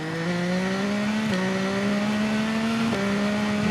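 A superbike engine screams at high revs through the TT Isle of Man 2 racing game, loud and close. Its tone climbs steadily, then drops sharply at each gear change, with two shifts across the run.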